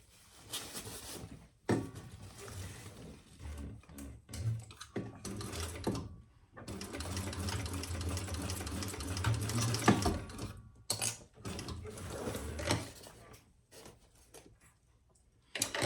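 Sewing machine stitching a seam on the corners of a bowler bag, running in several bursts of steady mechanical whirring and clicking separated by brief pauses, close and fairly loud with no talking.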